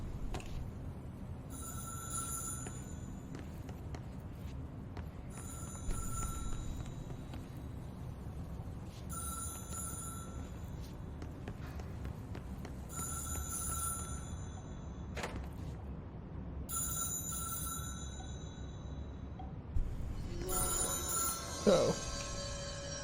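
Telephone ringing in the video game Control: a repeated electronic ring comes in regular bursts about every four seconds over a low, steady rumble of in-game ambience, followed by a brief clatter near the end.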